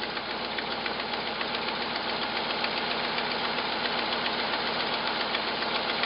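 A junkyard Jeep J7 engine idles with a bad exhaust leak, giving a steady, loud, rough rumble with rapid ticking pulses throughout and no talking.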